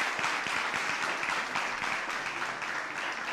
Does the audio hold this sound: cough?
no